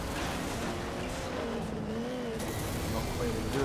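Racing car engines from the off-road game MotorStorm roar continuously and loudly, with shifting engine pitch and some tire noise throughout.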